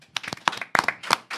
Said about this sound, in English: Let's give the deacon a round of applause.